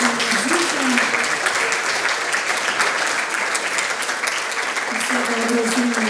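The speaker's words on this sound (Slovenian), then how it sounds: "En aplavz, ena spodbuda za našega mladika" Audience applause at a youth awards ceremony in Slovenske Konjice, Slovenia: dense, steady clapping from a large crowd fills the whole stretch at even loudness, with a voice faintly audible beneath.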